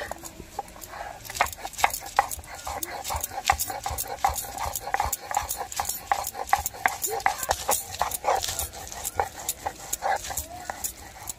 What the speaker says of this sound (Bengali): লঙ্কা আর রসুনটা আমি একসাথে বেটে নেব।